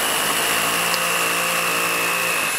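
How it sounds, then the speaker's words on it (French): Power drill with a 6 mm bit boring a pilot hole through the holes of wall brackets during acoustic wall insulation work, a loud, steady high-pitched whine held throughout without speech. "je vais percer, mais je fais d'abord un pré-trou au travers des trous des appuis"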